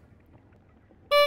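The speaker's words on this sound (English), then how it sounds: "Clowns go honk honk." A clown's horn from the video game Splatoon 3 honks once at the end, a loud, bright, brassy toot that follows a moment of near-silence.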